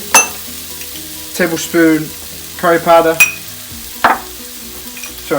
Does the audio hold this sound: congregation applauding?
no